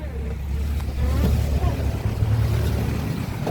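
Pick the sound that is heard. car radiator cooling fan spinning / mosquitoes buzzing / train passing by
car radiator cooling fan spinning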